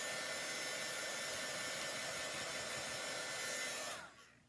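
A hair dryer blows steadily on a watercolored chalk craft piece, a loud even whoosh held close for about four seconds before it cuts off and trails away.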